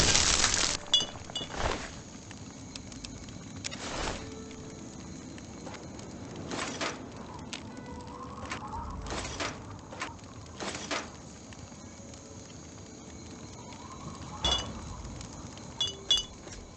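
Glass clinking in Fallout 3 during the Point Lookout Walking with Spirits quest, a run of sharp, separate chinks spaced a second or two apart over quiet, low background ambience.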